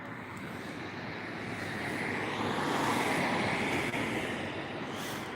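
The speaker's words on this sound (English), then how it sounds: "It's a helicopter, it has to be." A helicopter flying overhead makes a steady, moderately distant engine drone that swells slightly and then eases, mixed with light wind noise and no voices.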